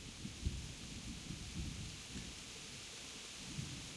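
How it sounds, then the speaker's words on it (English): Steady rain hisses in the game Kingdom Come Deliverance, with deep thunder rumbling low beneath it and swelling in a few soft bursts. No one speaks. "Let's get out of the rain."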